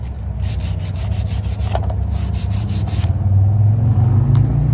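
A wooden picture frame is sanded by hand, with loud rhythmic rubbing strokes over a low background rumble, up close and without talk.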